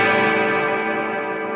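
Sustained guitar tone from a struck string played through an MXR reverb pedal set fully wet, a thick shimmering wash of chorus-like ringing that holds steady and slowly decays, heard alone without voices.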